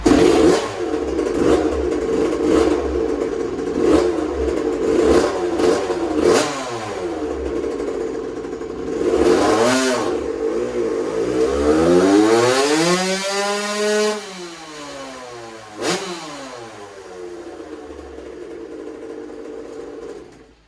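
A 2001 Suzuki RM85 two-stroke dirt bike with V-Force reeds, running after being kicked over: a close, raspy engine revved repeatedly, rising and falling in pitch through long sweeps, then settling into a rough idle.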